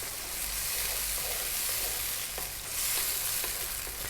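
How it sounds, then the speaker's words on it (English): Crushed canned whole plum tomatoes sizzle and fry in a pan over slightly above medium heat, with a steady close hiss and occasional scraping stirs, no voices. "Now we're going to drop in that 1 can of tomatoes that was whole."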